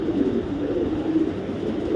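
A young 2022 female racing pigeon of Python bloodline coos in a low, steady murmur that runs through the whole stretch, close and continuous, with faint background noise.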